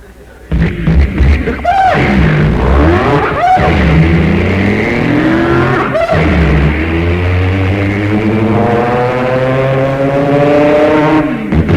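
A man vocally imitates a four-speed stick-shift hot rod accelerating, his voice droning like an engine that climbs in pitch, drops sharply at each gear change, then climbs again, loud and continuous.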